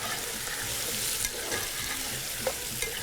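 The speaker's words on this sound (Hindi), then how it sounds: "चलो भाई, ये पकेगा अभी, और साथ ही चिकन की भुनाई होगी।" Chicken is stirred and fried in a pan, giving a close, continuous sizzle with scraping stir noises and small pops, and no voices.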